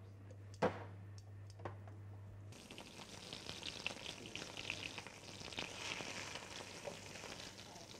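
Oxtail pieces brown in hot oil, a dense, steady sizzle that starts abruptly after a quiet moment with a single knock, then continues evenly close by, with no talk.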